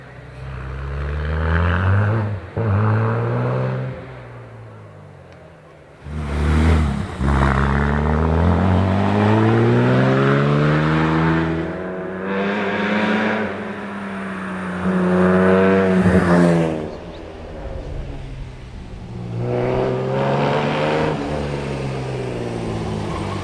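A vintage SS race car with twin rear wheels launches at Prescott Hill Climb, its engine loud and close, revving hard through several rising gear pulls with brief dips between shifts.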